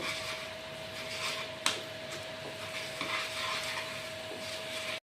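Spices, sugar and coriander powder being stirred together in a pan for a Bengali prawn curry, a steady scraping and rubbing texture with one sharp knock of the utensil against the pan, no talking.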